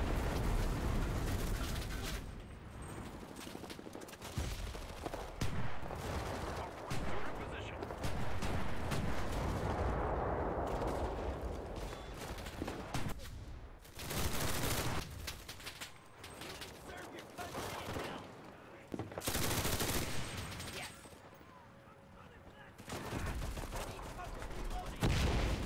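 Bursts of gunfire and explosions from a Pacific Theater battle in the video game Enlisted, with repeated rifle and automatic fire at varying distances broken by short lulls while a player talks over it.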